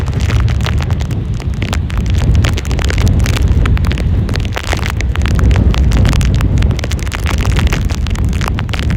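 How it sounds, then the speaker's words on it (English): Roaring, gusting Hurricane Ian wind at St. Pete Beach on Florida's Gulf Coast buffets the microphone without a break, with a rushing, rain-like hiss throughout and no voices. "This is a nasty, violent storm"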